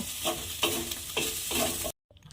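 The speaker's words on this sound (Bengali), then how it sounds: "ছানাটাকে আমি হালকা করে একটু ভেজে নিয়েছি।" Chhana (cottage cheese) lightly frying in oil in a pan, with steady sizzling and a few stirring scrapes at regular intervals, then an abrupt cut to near silence.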